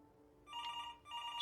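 A telephone rings in the video game Before Your Eyes, two short electronic trilling bursts separated by a brief gap, clear and fairly close, with no talk over them.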